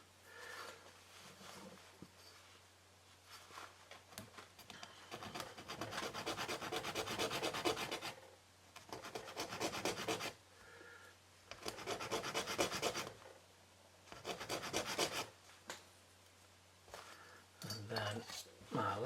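A coarse file shapes a wooden part of a Vanguard Models Fife ship model, producing repeated rasping strokes in distinct bursts with short pauses between them, fairly quiet and close.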